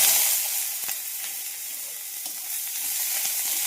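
Sliced onion frying in a small amount of oil in a home kitchen pan, giving a steady close hiss and crackle that continues without pause, with an occasional faint clink of a utensil.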